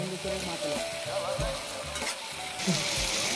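Tomatoes and onions sizzle and fry in a pan for a Telugu taro root (chamadumpa) curry, with a steady hiss and a spoon stirring and scraping at intervals throughout, loud and close.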